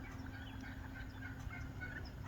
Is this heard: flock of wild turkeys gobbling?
yes